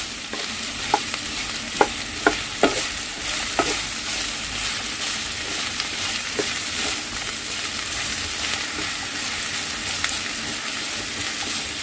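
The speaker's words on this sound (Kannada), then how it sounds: "ಇದು ಒಂದೆರಡು ನಿಮಿಷ ನೀಟಾಗಿ ಹುರ್ಕೊಳ್ತಾ ಇದ್ದೀನಿ" Sliced okra (lady's finger) sizzles steadily in a hot pan, with several sharp scraping stirs and clinks of a spatula against the pan, recorded close and with no talking.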